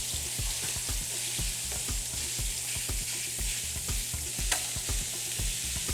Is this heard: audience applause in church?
no